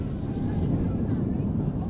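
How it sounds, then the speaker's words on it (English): Gusting wind sweeps across a high school football field, a low continuous rumbling roar buffeting the microphone, loud and steady, with a voice talking over it. "We've got a gusting wind coming in now, as you can probably hear."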